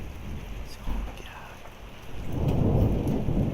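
A severe thunderstorm with heavy rain pours steadily while thunder rumbles and swells louder toward the end, loud and close.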